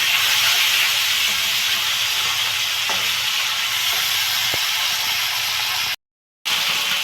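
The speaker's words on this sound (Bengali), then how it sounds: "তেল গরম হয়ে গেছে, আর মাছটা ভেজে নিব। মাছটা আমি ভেজে নিচ্ছি।" Fish frying in hot oil in a pan, a loud continuous hiss and sizzle close by, steady throughout apart from a short dropout near the end, with no talking.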